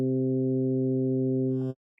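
A steady Omnisphere synth tone modulated with an LFO, a rich buzzing harmonic drone that holds evenly, picks up a faint fluttering shimmer near the end, then cuts off abruptly.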